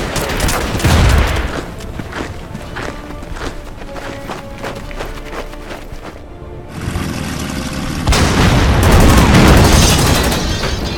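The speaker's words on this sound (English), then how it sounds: "They just destroyed our short-barreled artillery gun there." Heavy artillery explosions in the war strategy game Order of Battle: Panzerkrieg: loud, booming blasts and rattling bursts pile up, with a brief lull before another powerful, sustained round of detonations.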